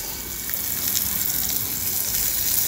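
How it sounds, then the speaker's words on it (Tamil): Onions hiss and sizzle loudly in hot oil in a pan that already holds fenugreek seeds, a steady close-up crackle throughout, for a Ram Navami festival dish. "வெங்காயம் போட்டு நல்லா வதக்கிடணும்."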